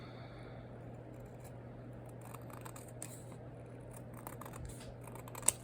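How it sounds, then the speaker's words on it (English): Quiet, intermittent snipping of scissors trimming card paper, a few small clicks spread over a low steady hum, ending in one crisp snip. "So I'm just gonna take scissors"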